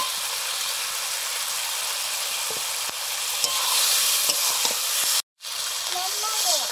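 Vegetables sizzle loudly in a hot pan, starting right after being added for a fish curry, with a steady hiss and occasional scraping stirs, broken by a brief silent gap near the end.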